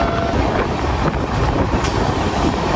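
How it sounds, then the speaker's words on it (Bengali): A night train running toward Darjeeling, heard from inside a general compartment: a steady, loud rumble with rattling carriage noise and faint wheel clatter throughout, no voices. "10 ঘন্টা ট্রেন জার্নি করতে করতেই সময় কেটে যাবে।"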